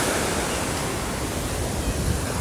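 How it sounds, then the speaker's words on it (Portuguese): Ocean waves break and wash continuously onto a busy beach at Tamandaré, Pernambuco, as a loud, dense roar of surf with steady hiss and no pauses. "ouvindo esse barulho gostoso das ondas"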